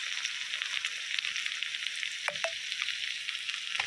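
Garlic paste frying with browned onions for a prawn malai curry, a steady hissing sizzle close in the pan, with a couple of brief spatula scrapes.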